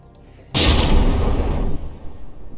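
A single heavy battleship cannon blast in a video game erupts suddenly, loud and booming, then rumbles and decays over a couple of seconds.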